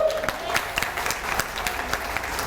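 Audience applause at a Montessori teacher-training session, a sustained patter of many hands clapping energetically at moderate loudness, with some voices mixed underneath.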